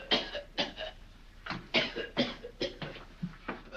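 Repeated harsh coughing from a man in an old horror film scene, about eight rough bursts in an uneven rhythm, close and fairly loud, with no talk between them.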